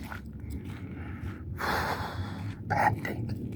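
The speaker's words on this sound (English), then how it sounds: "Panting." A person walking outdoors pants heavily, with steady, close breathy gasps and snorts over a continuous background rumble.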